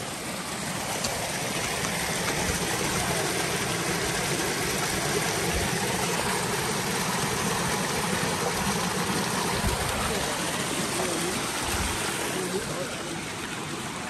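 A stream rushes like a waterfall at a water-powered mill in Kalikot, Nepal: a loud, unbroken roar of flowing water that holds steady throughout.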